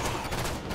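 Dense, continuous automatic gunfire in the shooter game Halo Fireteam, a loud, close barrage with no gaps in a brief burst.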